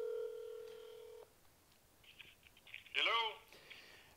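A phone call is dialed on a telephone: a steady tone holds for about a second, then short bursts of dialing tones follow, faint and thin.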